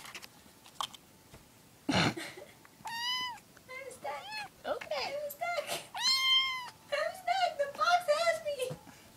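A kitten stuck inside a pizza box meows repeatedly at close range, with high, drawn-out cries and shorter mews, alongside light rustling and tapping.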